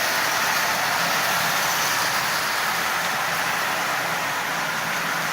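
A Marx toy train's 400 double reduction motor runs steadily, giving a continuous, even whirring hiss close by that holds at the same level throughout.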